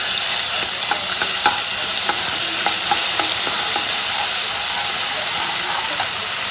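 Ginger garlic paste sizzles loudly in hot oil for a liver pepper fry, a dense continuous hiss close up with faint scraping stirs running through it, no voices.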